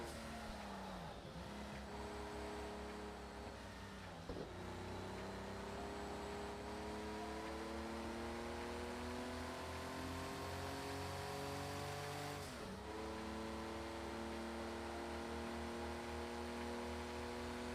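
Race car engines from Project Cars 2 rev and climb through repeated gear changes, rising whines dropping sharply at shifts around every few seconds, steady and fairly close with no talk.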